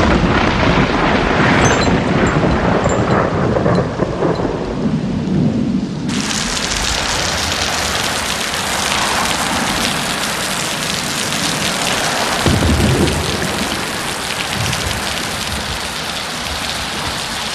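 Heavy rain pours steadily with rolling thunder, loud and continuous, swelling into a denser roar partway through and carrying on alone without voices.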